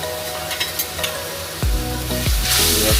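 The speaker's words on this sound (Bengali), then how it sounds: "এবার গরম তেলে আমরা দিয়ে দিচ্ছি মশলাটা।" Soaked spice paste with a pinch of sugar hits hot oil for a Bengali koi fish curry, crackling and sizzling loudly, with sharp hissing bursts and stirring scrapes as it fries close by.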